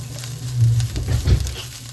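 Impossible plant-based ground beef cooks in a pan, giving a steady low sizzle with a few louder swells of frying and stirring, close and alone without voices.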